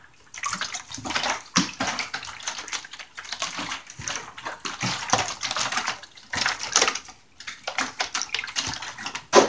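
Water is poured over worm bin bedding for blue worms, a close, steady splashing and trickling that comes and goes in several bursts across the clip, with no talking.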